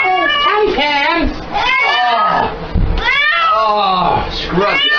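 A cat meows and caterwauls loudly and almost continuously while being washed with soap in a shower, with long wavering cries rising and falling close by.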